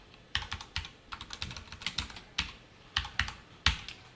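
Close keystrokes on a computer keyboard while HTML and CSS media query code is typed, heard as light clicking taps in irregular clusters with short gaps, fairly quiet and with no voices.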